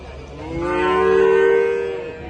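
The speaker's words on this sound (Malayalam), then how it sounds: "ഇതൊക്കെ കച്ചവടമായ പശുക്കുട്ടികളെ മൂലിക്കുട്ടികളൊക്കെയാണ്" At a cattle market, a long, loud calf moo swells and fades, with a low murmur of livestock and background noise underneath.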